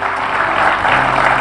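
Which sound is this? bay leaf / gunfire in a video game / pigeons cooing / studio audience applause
studio audience applause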